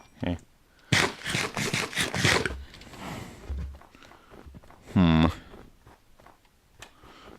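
Minecraft cows in a large herd give a loud, close moo near the end, following a burst of rustling and footstep-like thuds early on, with quieter shuffling between.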